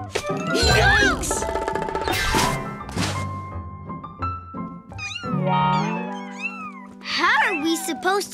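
Big cartoon kittens batting wool balls meow and caterwaul loudly in overlapping bursts, with a few soft thumps, while voices talk between the cries.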